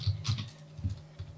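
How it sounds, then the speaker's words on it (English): A few quick keystrokes on a computer keyboard, soft close clicks spaced irregularly over a second or so, alone. "I gotta type keynote 942."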